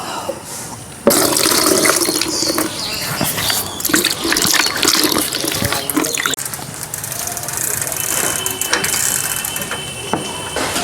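Water pours and splashes steadily while someone washes their face, loud and close, with clattering and gear-like mechanical noises mixed in.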